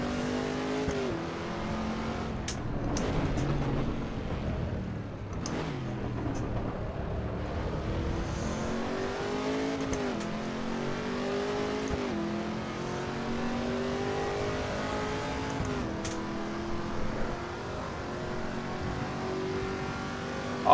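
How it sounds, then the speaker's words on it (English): Race car engines in Assetto Corsa EVO rev and shift repeatedly, rising and falling tones sweeping up through the gears with steady, loud, continuous drive and occasional tire noise, no talking. "I reckon they've nailed the sound of these cars."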